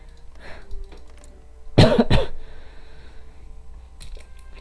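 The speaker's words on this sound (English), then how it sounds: "Why am I still coughing?" A short burst of two harsh coughs close to the microphone, set against a quiet room with faint clicking before and after.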